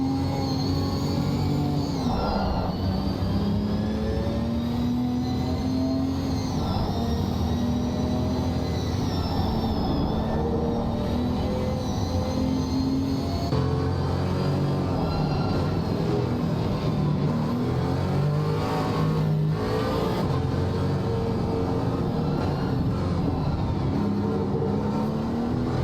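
A GT4 race car rolls slowly around Snetterton on a formation lap, its engine droning steadily at low revs with gentle pitch swells as it eases along, loud and continuous throughout.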